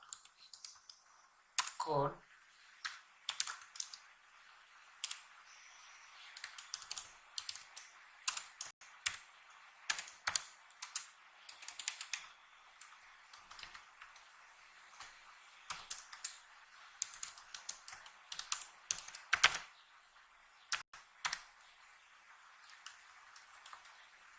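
Quiet, irregular clicking of a computer keyboard as code is typed, bursts of keystrokes with short pauses throughout, close but faint and alone.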